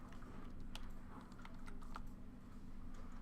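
Computer keyboard typing, a quiet scatter of separate key clicks over a steady low hum, with no talking.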